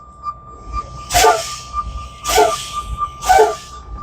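A truck's air brakes being fanned during a pre-trip inspection, three sharp bursts of air hissing about a second apart, loud and close, with a steady tone in the background.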